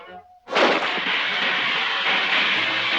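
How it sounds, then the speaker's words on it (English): A cartoon gun goes off with a sudden loud blast that trails into a long, roaring burst of noise, following a brief moment of quieter sound. "Ooh, this gun won't hit a thing."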